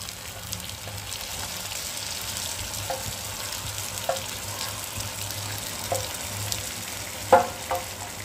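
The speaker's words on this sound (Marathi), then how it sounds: "आता यात आपण घालून घ्यायची ही आंबाड्याची भाजी।" Chopped ambadi leaves added to onions sautéing in a pan, giving a soft steady sizzle with occasional light clinks and stirring knocks, the loudest near the end.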